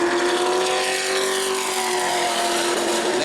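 Sportsman race car, a silver and black No. 32 machine, running a qualifying lap at New Smyrna: a steady, loud sustained engine drone holding one pitch for the whole stretch, with no talk.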